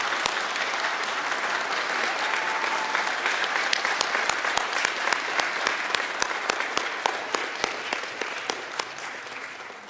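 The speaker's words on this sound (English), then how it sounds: "show them with a round of applause how much you appreciate them" Sustained applause from a commencement audience of graduates standing to thank their families and friends at a law school ceremony, a dense crowd of clapping hands that holds steady and then slowly thins toward the end.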